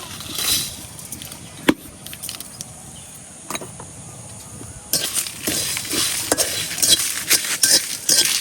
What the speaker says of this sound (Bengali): এখন এই সবটি আমি গরম খোলার মধ্যে বাজে লিয়াম।